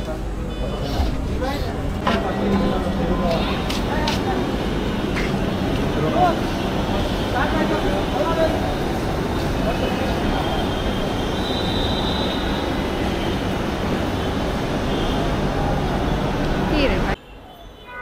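A Dhaka Metro Rail train pulls into Mirpur 10 station with a loud, continuous rumble from inside the carriage, wheel noise and a brief high squeal as it slows, with voices in the car before the sound cuts off abruptly.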